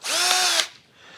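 Power drill whirring close by for about half a second while it tightens clamps on a reverse osmosis membrane housing of a XERO Pure Plus system, its motor pitch sliding as it winds down, then a quiet room.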